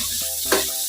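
Chopped garlic frying in a hot pan gives a short, steady sizzle with a brief louder hiss burst partway through, heard up close.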